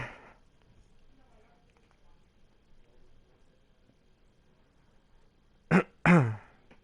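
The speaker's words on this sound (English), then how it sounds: "As always, still battling a cough." After a long near-silent stretch, a person suffering from a lingering cough clears their throat and then gives a sharp, close cough, two short loud bursts near the end.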